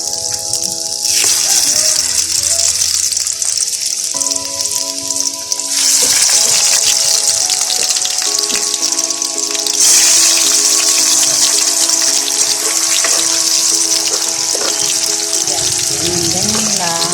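Sweet potato chunks for camote cue fry in hot sticky oil with a loud, continuous crackling sizzle that swells and shifts as pieces are moved, and faint background noises beneath.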